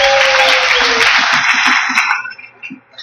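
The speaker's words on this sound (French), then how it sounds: "Est-ce qu'on peut acclamer le nom de Jésus?" A church congregation claps loudly together as a dense wash of applause that lasts about two seconds, then dies away quickly to a few scattered claps. Low voices murmur underneath.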